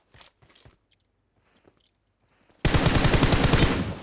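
Automatic gunfire from a PUBG Mobile match: a loud, sustained burst of rapid shots erupts after a couple of seconds of quiet with scattered faint clicks, and the firing runs close and dense right to the end.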